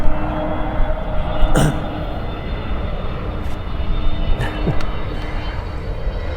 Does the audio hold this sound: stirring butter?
no